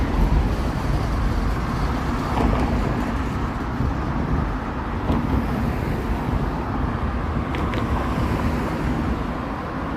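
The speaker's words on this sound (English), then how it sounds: "I can hear a subway going underneath me." Underground subway train rumbling beneath a downtown Toronto street, a steady low, heavy roar that fills the whole stretch without letup, with faint outdoor wind and traffic wash over it.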